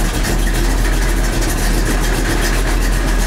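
A truck engine idles loudly and steadily up close, a constant low rumble with an even rhythmic throb, while the vehicle is checked for a suspected bad alternator and low charging voltage.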